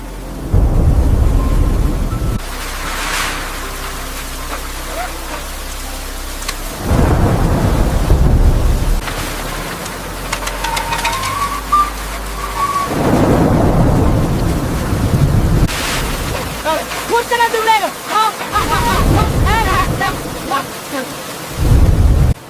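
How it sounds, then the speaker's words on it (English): Thunder rumbles and cracks repeatedly over steady heavy rain during a nonstop storm while camping in a rooftop tent on a Cybertruck, loud and close with several booming rolls and brief pauses between strikes. "The storm won't stop"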